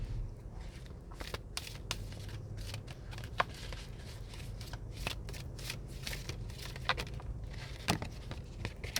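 Tarot cards being shuffled by hand, a steady soft riffling and rustling with sharper flicks of card edges throughout, close and fairly quiet against a low background hum.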